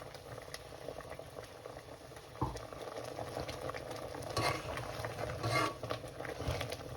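A thick chicken sambar curry with ground dry coconut bubbles and simmers steadily in a pot, with soft pops and occasional stirring clatter, fairly quiet and close.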